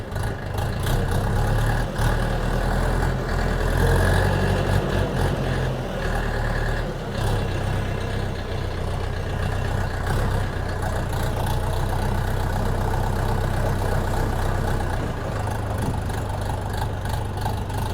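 A DTZ 5404 mini tractor without a cab runs in gear, its diesel engine a steady, loud, low chugging drone that continues throughout, with a slight change in tone partway through as it shifts and moves.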